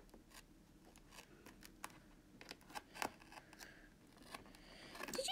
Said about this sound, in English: let me use the scissors